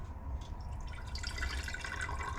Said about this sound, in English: we are going to fill the mason jar with water.